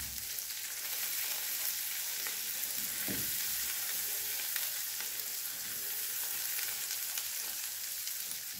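A garlic tadka sizzles in hot oil for a mixed masoor and moong dal, a steady, close crackling hiss that runs evenly throughout with no talking.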